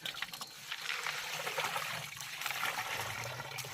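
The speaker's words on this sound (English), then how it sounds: "Now run water over it." Water running over an augite crystal outdoors at Cedar Butte near Tillamook, Oregon, a close, steady splashing trickle and pour that continues throughout at a fairly even level.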